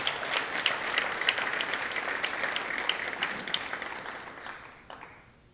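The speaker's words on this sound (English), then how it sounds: "Give yourselves a round of applause" Audience at a civil service awards ceremony applauds steadily with dense clapping, then the clapping thins and fades out near the end.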